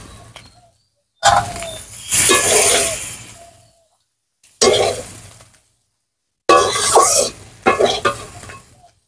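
Red-fried shrimp are lifted out of hot oil in a kadai, giving bursts of loud sizzling and frying hiss with stirring scrapes, broken by short silent gaps.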